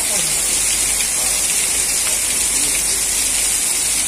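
Heavy rain pouring down during a flood in central Bartın, Turkey, a dense steady hiss of falling water and runoff, loud and continuous with no pauses.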